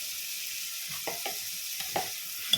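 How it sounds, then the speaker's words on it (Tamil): Drumstick leaves sauté in a pan with tomato and salt for rasam. A steady, soft sizzle runs throughout, with a few light scrapes and stirring clinks and no voices. "இந்த அரைக்காத முருங்கைக்கீரை சேர்த்து நல்லா வதக்கலாம்."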